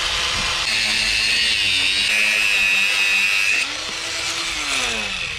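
A power tool cuts through the middle of a headless rivet on a Scania truck, a loud continuous high whine that holds steady for several seconds, then drops in pitch and level as it bites through the metal.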